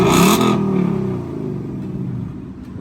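A Ford Mustang S550 fitted with an H-pipe exhaust revs loudly up close. One sharp blip of the throttle falls back to a deep, rumbling idle that carries on to the end, with no voices.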